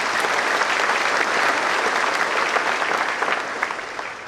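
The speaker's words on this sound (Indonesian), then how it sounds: "Karena itu kita berikan apresiasi, aplaus yang luar biasa." An audience at a formal inauguration ceremony for an association's board applauds loudly and steadily, a dense wash of many hands clapping that holds throughout and eases slightly at the end, with no speech over it.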